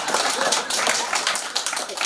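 An audience claps through a political campaign speech in Manggarai, a dense, steady wash of many hands that stays loud and continuous from start to finish.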